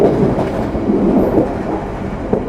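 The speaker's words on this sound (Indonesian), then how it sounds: "Kereta api Mutiara Selatan memiliki kecepatan maksimal 120 km per jam." The Mutiara Selatan passenger train runs on its rails with a steady, loud, close rumble and a faint rhythmic clatter throughout, no voices.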